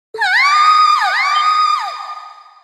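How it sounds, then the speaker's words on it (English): In the video game Trails of Cold Steel, a loud high-pitched scream rings out alone, sustained for nearly two seconds with a couple of wavering dips before fading. "A scream?"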